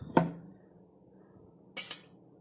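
A metal cooking vessel is set down on a surface, two short clinks about a second and a half apart in an otherwise quiet room.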